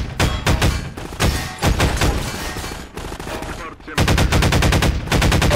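Rapid automatic gunfire from the Half-Life 2 video game, loud bursts of machine-gun fire in dense rhythmic volleys with a brief lull before a final sustained stream of shots.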